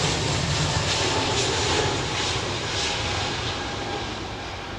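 A jet airliner departing Heathrow Airport roars steadily overhead, a broad, loud engine rumble with a faint whine that holds for several seconds and eases slightly toward the end, with no voices.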